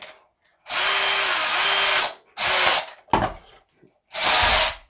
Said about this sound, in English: So I've got my drill ready.